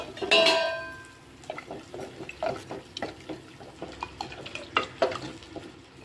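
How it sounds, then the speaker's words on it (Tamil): A ladle stirs sambar with dal in a pot, giving a clattering clink at the start and then a series of soft, wet scrapes and taps at a steady rhythm, close and moderately loud. "சாம்பார் நல்லா ஒரு மிக்ஸ் கொடுத்துருங்க."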